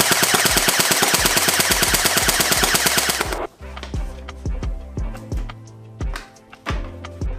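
Snow Wolf M41A Pulse Rifle airsoft gun, black and grey version, firing a dense rapid-fire burst for about three seconds, then several separate short bursts and single shots with pauses between, close and loud.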